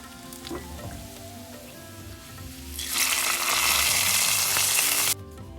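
Shallots fry in hot oil for a green plantain curry, a steady close sizzle that surges into a loud, hissing burst as curry leaves hit the pan, then cuts off abruptly.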